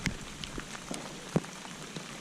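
Rain falls steadily during a fishing outing, a soft even patter on surfaces with scattered louder droplet taps standing out now and then.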